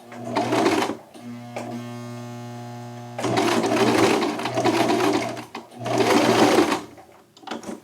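A sewing machine stitching a slim fit shirt runs in three loud, steady bursts of rapid mechanical chatter, separated by short pauses where a low motor hum lingers.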